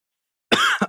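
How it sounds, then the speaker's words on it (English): A single sharp cough straight into a close microphone, a quick harsh burst followed by a smaller second hack, alone with no talk around it. "Cough into the mic."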